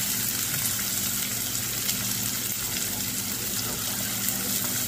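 Green chilies and onion hitting hot oil in a home kitchen pan, a steady loud sizzle and frying hiss that holds evenly throughout without pause.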